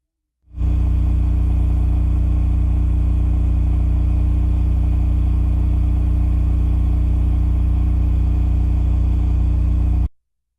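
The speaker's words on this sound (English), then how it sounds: "Here is the RS-20A from Cummins Power Generation." A Cummins RS-20A standby generator runs steadily under load at 3,600 RPM, a loud, constant engine drone with a strong low hum that starts abruptly and holds unchanged for about ten seconds before cutting off.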